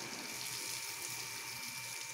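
Water pours in a steady, unbroken rush onto dry garden plants, a continuous hissing splash heard close up with no voices.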